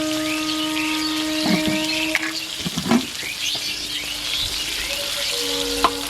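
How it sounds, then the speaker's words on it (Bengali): Potato chunks with salt and turmeric frying in oil under a lid over medium heat for a broiler chicken curry: a steady close sizzle broken by a few soft clatters, with sustained musical tones in the background. "আলুগুলোকে আমি মিডিয়াম আঁচে ভেজে নেব ঢাকা দিয়ে।"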